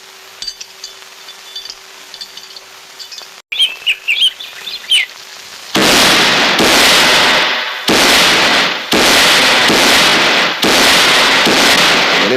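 Firecrackers bursting at a temple festival, heard as a long run of loud, dense crackling bursts in several sustained volleys, after a quieter stretch of birds chirping and a few scattered pops.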